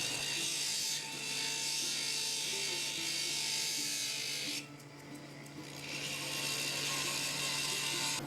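A setting burr cutting a seat for an opal in gold, a close high-pitched whirring grind running steadily, with a brief drop midway before resuming.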